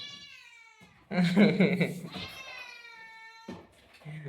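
A hungry kitten meows up close in a home, letting out several loud, drawn-out cries with a longer, more insistent one in the middle and shorter calls near the end.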